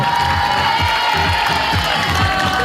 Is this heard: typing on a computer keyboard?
no